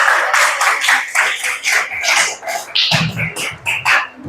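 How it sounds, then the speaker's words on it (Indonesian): Scattered clapping in a classroom for the fourth student group of a teacher-training session for Islamic religious education: uneven bursts of hand claps that thin out toward the end, with no voices over them. "Beri tepuk tangan lagi untuk kelompok yang keempat."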